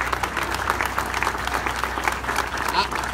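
Crowd applause at a downtown Topeka plaza event as city council members are thanked, a steady wash of clapping from many hands lasting throughout, with some voices mixed in.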